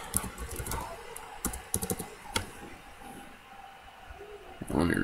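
Fingers typing a password on a computer keyboard, quick bursts of close key clicks with pauses between, ending in a brief louder rustle.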